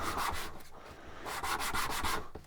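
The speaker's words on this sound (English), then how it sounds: "just put a piece of sandpaper down on a flat board" Segmented wooden pieces are rubbed by hand over a sheet of sandpaper laid on a flat board, making soft, close scratchy strokes in an uneven back-and-forth rhythm.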